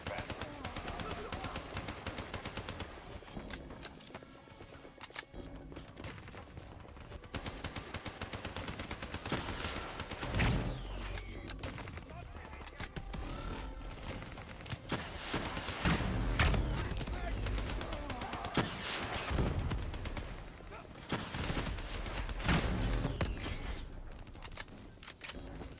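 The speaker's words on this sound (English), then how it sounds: "Shoot down those bats." Repeated automatic gunfire from shooting at bats in Call of Duty Black Ops 3, coming in dense loud bursts through the whole stretch with a few calmer gaps.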